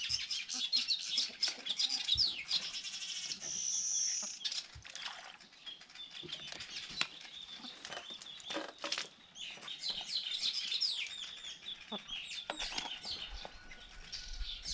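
Chickens in an African village yard clucking and chirping on and off, with sharp calls and a brief flap of wings, near and moderately loud over quiet background sounds.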